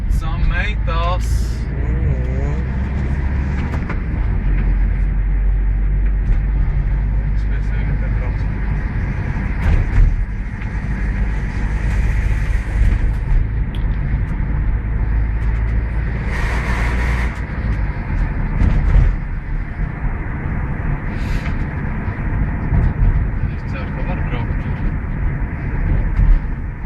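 A steady low car rumble from inside a moving vehicle carries on throughout, with voices chatting over it and a few brief clatters.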